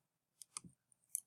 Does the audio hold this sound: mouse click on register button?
yes